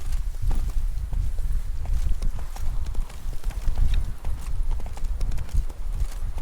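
Hooves of Geralt's horse Roach clip-clop in a quick, even rhythm across the ground in The Witcher 3, loud and close, with faint ambient game sound behind.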